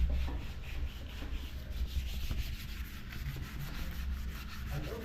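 Something is scrubbed clean by hand in a small one-bedroom home. Quick, uneven rubbing strokes come close and fairly quiet, with no talking.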